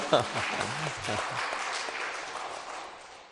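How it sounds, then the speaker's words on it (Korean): A church congregation at a Sunday afternoon service claps at the pastor's request, a brief voice at the start giving way to a soft wash of clapping that thins and fades. "아유, 박수 한번 쳐줘봐요"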